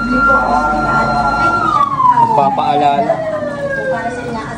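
A loud fire truck siren wails nearby on New Year's Eve, its tone sliding steadily downward as the truck passes, with a brief voice underneath.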